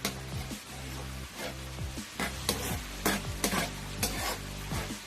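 Curry shrimp gravy being stirred in a pan on a cooker, with repeated spoon scrapes over a steady low sizzle, close and fairly soft.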